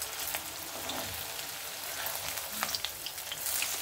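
Cauliflower frying in cooking oil, a soft, even crackle and patter of popping oil with small spits scattered throughout, fairly quiet and steady.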